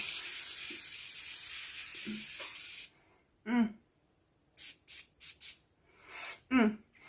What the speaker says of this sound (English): I'm gonna start by spraying this on my face